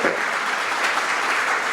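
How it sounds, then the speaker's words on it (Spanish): Steady applause from a church congregation during a sermon, a dense, even clatter of many hands that stays loud and constant throughout with no voices over it. "denle un aplauso fuerte al Señor"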